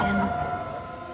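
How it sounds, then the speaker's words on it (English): A tornado siren sounds on a calm day with no severe weather, a steady wailing tone held throughout, fairly loud and unbroken, with no talking over it. "No, it's a tornado siren, but there's no severe weather whatsoever."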